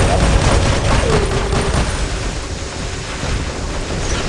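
Robot weapons fire nonstop in the War Robots mobile game, a dense, loud wash of gunfire and blasts that runs the whole time without a break.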